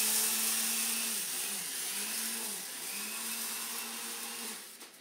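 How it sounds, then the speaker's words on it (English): An electric coffee grinder grinds seeds into flour with a steady, high-pitched whir and an even motor drone that wavers in pitch, heard fairly close at a moderate level with no talking. "This is actually my husband's reject coffee grinder."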